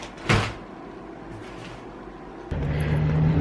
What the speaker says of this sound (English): Oh, truck.